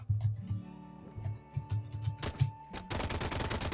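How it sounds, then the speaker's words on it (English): Pistol fire in the video game Caves of Qud, a run of sharp shots at first, then a dense, rapid burst of gunfire with the trigger held down. "that's what happens when I just hold F. Is that I just shoot the shit out of whatever I'm fighting"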